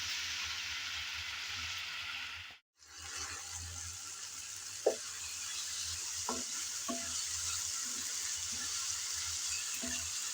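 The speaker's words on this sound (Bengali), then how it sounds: "এখন নেড়ে চেড়ে ভালোভাবে টমেটো আর কাঁচামরিচ ভেজে নিতে হবে।" Tomatoes and green chilies fry in a pan with a steady close sizzle, broken by a brief silent gap, while a utensil stirs with occasional scraping knocks against the pan.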